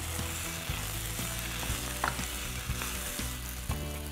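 Wonton vegetable filling with Schezwan chutney fries and is stirred in a pan, giving a steady close sizzle broken by occasional soft scrapes and clinks of the spoon.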